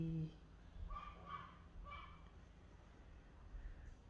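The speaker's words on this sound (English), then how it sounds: "oh, that dog keeps barking" A dog barks a few times in the distance, faint and muffled against a quiet indoor background.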